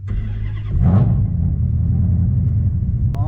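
Magnuson-supercharged six-speed Dodge Challenger R/T engine, a loud deep rumble that swells as it accelerates, then a steady heavy drone while driving at close range.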